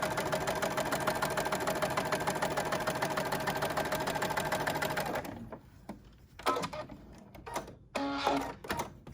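A sewing machine stitches a fabric surgical mask with a steady, loud mechanical whir for about five seconds, then stops, followed by a few short bursts of clatter and handling.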